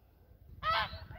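A single loud, nasal goose honk rings out near the end of a quiet stretch on a farm at morning feeding time, with no voices.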